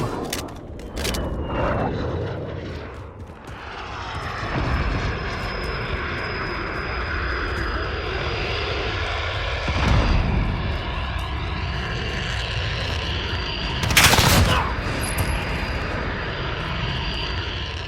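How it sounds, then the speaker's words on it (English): A steady propeller-engine drone hums overhead throughout a Modern Warfare beta match, with distant gunshot cracks breaking through at intervals and a faint voice callout. "Friendly UAV overhead."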